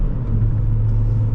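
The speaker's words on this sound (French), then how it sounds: "Là j'ai juste fait une petite accélération, on est déjà à 90" Ford Fiesta ST with 200 hp accelerating on the road, a steady low engine rumble heard from inside the car, loud and close, with no talk.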